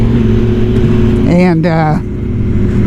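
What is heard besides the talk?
motorcycle engine revving hard while riding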